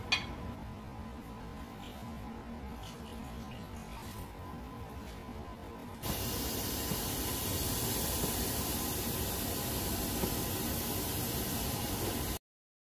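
Lugaw rice porridge boiling in a covered pot gives off a steady broadband hiss and bubbling, rising noticeably louder midway and holding constant, close and without talk.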